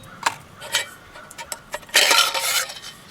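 Metal pieces of an Esbit trekking cookset knock and clink together as they are handled at close range, with several sharp taps and then a longer scraping rattle.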